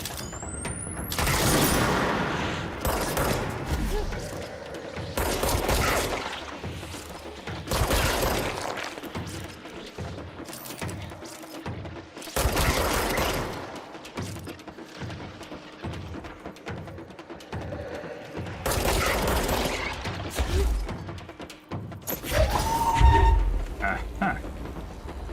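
Weapon fire in the video game Control comes in repeated loud bursts of shots and booming impacts, separated by short lulls, with game sounds in between across the whole stretch.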